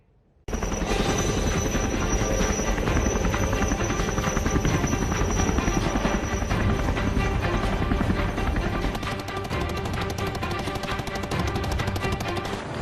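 An Indian-made Light Combat Helicopter (LCH) flies over Leh, Ladakh, its rotor thumping in a fast, steady, loud chop that runs unbroken for the whole stretch.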